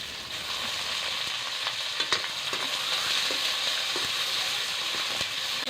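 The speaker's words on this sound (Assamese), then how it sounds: "পিঁয়াজখিনি মই অকণমান টাইম ভাজি ল'ম।" Onions fry in hot oil in a wok for an Assamese duck-and-pumpkin curry, giving a steady, even sizzle broken by regular scraping stirs of the spatula.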